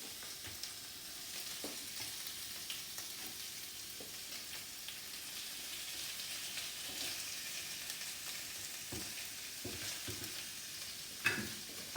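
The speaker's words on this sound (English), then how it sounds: "transfer the patties into the pan just to sort of brown them." Patties brown in hot groundnut oil in a pan with a soft, steady sizzle, broken by scattered quiet clicks and a slightly louder tap near the end.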